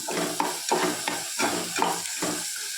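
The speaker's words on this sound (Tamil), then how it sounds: "இது நல்லா வதங்கட்டும்." Masala for a cauliflower gravy sizzles in a pan while a spoon scrapes and stirs it in regular strokes, about six close, moderately loud sweeps over a steady frying hiss.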